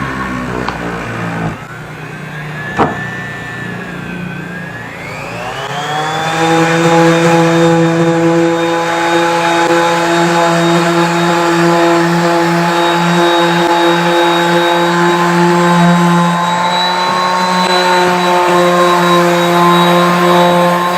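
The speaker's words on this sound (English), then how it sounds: "we'll just use 100 and give it a small little sanding" A power sander works a solid hardwood window frame with 100-grit paper, spinning up after a few seconds into a loud, steady high whine that holds without a break, with no talk.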